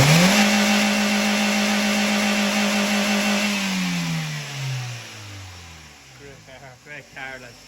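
A BMW E46 320D diesel engine starts, helped by a newer car's jump start, then holds a raised rev before the pitch drops and it settles toward idle, while voices talk over the end.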